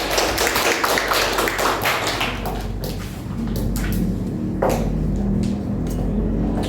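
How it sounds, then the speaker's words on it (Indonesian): A classroom group applauds together, a dense and sustained burst of many hands clapping nearby that continues without pause for several seconds. "Oke, tepuk tangan untuk kelompok."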